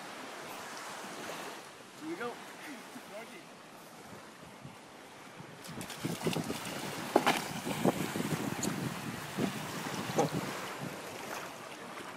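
Outrigger canoe paddled close to shore: soft water swishes and paddle splashes over steady wind and surf, with faint voices in the background.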